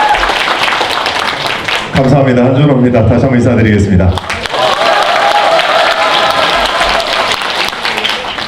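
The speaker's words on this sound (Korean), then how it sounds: "뜨거운 박수로 여러분 환영해 주시고요" Party members at a Democratic Party rally in Yeongdeungpo applaud to welcome a speaker. The loud, continuous clapping runs throughout, and someone briefly speaks over it partway through.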